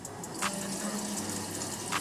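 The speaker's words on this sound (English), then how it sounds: "I like to rinse off my noodles first." Tap water running steadily as spaghetti noodles are rinsed in a kitchen sink, a faint continuous splashing with a couple of soft clatters.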